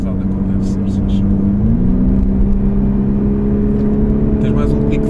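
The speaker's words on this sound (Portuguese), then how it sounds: "dá lá uma gasada como deve ser" A Lexus RC 200t turbo engine runs with a steady, close hum that rises in pitch once partway through. Faint voices are present.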